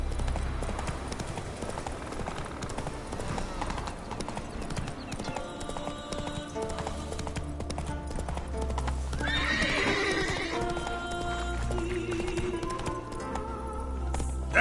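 Roach, a horse in The Witcher video game, clip-clops along at a steady trot with an occasional whinny, set against game music and ambience; no one speaks.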